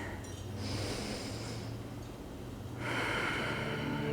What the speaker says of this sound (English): inhaling through the nose and exhaling through the mouth